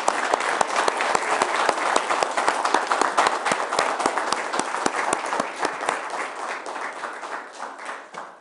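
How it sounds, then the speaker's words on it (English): Applause at a county board of supervisors meeting after a unanimous vote, a moderate round of clapping from a small gathering that rises quickly and gradually thins out over several seconds. "Maybe after we approve it, you can give them a round of applause."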